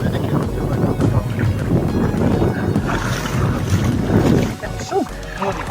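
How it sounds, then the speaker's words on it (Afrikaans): Strong wind blows across a farm dam, roaring and buffeting the microphone in loud continuous gusts, with a voice speaking near the end as the gusts drop slightly. "Ja, die wind."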